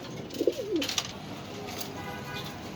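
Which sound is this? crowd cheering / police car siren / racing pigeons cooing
racing pigeons cooing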